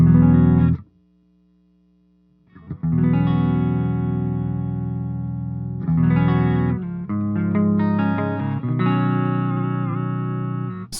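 An electric guitar plays through the clean channel of a Joyo Zombie II tube hybrid amp head. Sustained chords ring out with a short silent gap early on, then several chord changes, loud and steady, with a slight effects shimmer.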